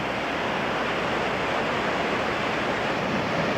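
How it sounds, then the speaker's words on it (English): Victoria Falls, heard from the Zimbabwe side, gives off a loud, unbroken roar of falling water mixed with wind rumbling against the microphone, with no voices. "An incredible way to see the falls."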